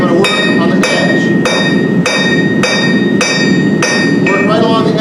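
Blacksmith's hammer striking a workpiece held at an angle on the anvil edge while cogging, a rapid, regular series of loud ringing metallic blows at close range.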